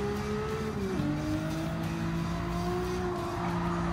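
A Nissan Skyline R33 racing car engine in Gran Turismo 7, around 600 horsepower, droning at high revs, dropping pitch briefly as it shifts, then holding a steady whine; sounds synthetic, like a game.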